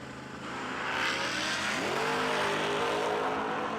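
Ford Mustang drag cars, including a Mustang GT, roar loudly from the strip at a no-delay drag racing event, engines building and shifting pitch as they accelerate hard, steady and close with no talk.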